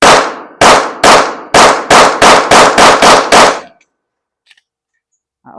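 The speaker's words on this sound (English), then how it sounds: "Go ahead and shoot our 10 rounds with it." A 9mm pistol fitted with a compensator fires ten 115 grain rounds in a quick, steady string of loud, sharp close-range shots, followed by near silence.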